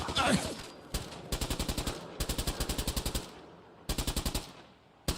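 Repeated bursts of rapid automatic gunfire from the video game Fallout 4, several volleys of sharp rhythmic shots separated by short pauses, loud and close, with a brief voice at the start.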